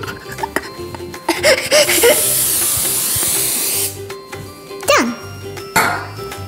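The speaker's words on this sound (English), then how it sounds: "spray four 6-inch tortillas with cooking spray." A pressurized aerosol cooking spray hisses steadily onto tortillas for about two seconds, bracketed by brief clicks and handling noises, with a voice and laughter nearby.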